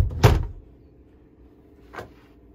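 The bathroom privacy door in the cabin of a 1981 Bayfield 32C sailboat is moved, giving a loud close slide-and-knock, then a second, softer bump about two seconds later in a quiet interior.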